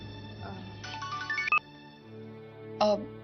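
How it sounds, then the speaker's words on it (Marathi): A mobile phone ringtone in a Marathi TV serial scene plays a short rising melody of bright tones over a steady background music bed, followed by one more brief tone burst near the end. "कोणाचा फोन ग?"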